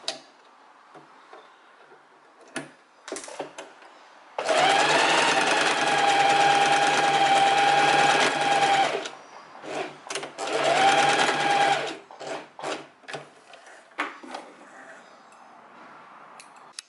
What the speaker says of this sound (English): I'm going over to my sewing machine, and I'm going to go back and forth maybe 4 or 5 times